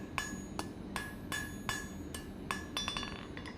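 A blacksmith's hammer strikes hot steel on an anvil while forging a fire poker, ringing out in about seven sharp metallic blows at an uneven pace, close and clear with no voices.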